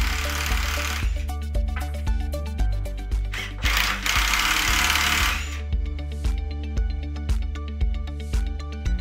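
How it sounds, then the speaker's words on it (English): Mechanical tool shearing the bolts on a 3M QL2 series two-hole mechanical shearbolt lug: dense, rapid ratcheting and hammering clatter, loud and close, with a louder burst partway through before the rhythmic impacts resume. "Now it's time to shear the bolts."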